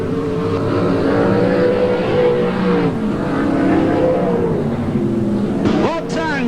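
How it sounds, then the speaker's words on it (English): Race car engines whine and rev on a track during a NSW SCC round 1 heat in 1986 while a commentator talks over them, ending with a rising high-pitched engine sweep. "Race leader in car number 54 in advance from George Tatnall."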